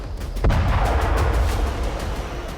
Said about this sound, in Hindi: आईडीएफ ने बारूद बरसाकर 8 से ज्यादा इमारतें जमींदोज कर दी।